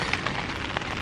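Steady rain drums on a tent overnight while camping in Grand Teton National Park, a dense, even patter with scattered louder drops close overhead.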